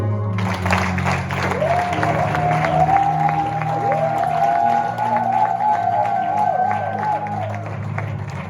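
A church congregation applauding and cheering for Jesus, a sustained crowd clapping under a held sung or musical tone, with voices mixed in throughout.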